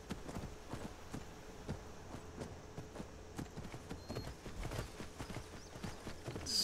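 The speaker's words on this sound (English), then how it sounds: "I'm here with my faithful horse, Steer." Horse hooves clip-clop in a steady walking rhythm while riding in the video game Skyrim, with even, fairly close thuds over a faint ambient backdrop.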